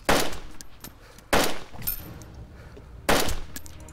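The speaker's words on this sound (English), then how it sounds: "Who shotgunned?" Three loud, sharp shotgun blasts in the DayZ video game, spaced over a few seconds, each with a brief decaying tail, close by and with no talk over them.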